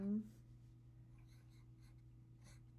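Pencil scratches faintly across paper at a table in a few soft, short strokes, quiet and close, after a brief voiced sound at the start.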